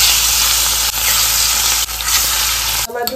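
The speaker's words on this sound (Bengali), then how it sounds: "এইখানে দিলাম কড়াইতে সর্ষের তেল। এটা গরম হয়ে গেছে, মাছগুলো দিয়ে দিচ্ছি।" Katla fish pieces hit hot mustard oil in a kadai and sizzle loudly and steadily up close, a dense continuous hiss with brief dips, alone without talk.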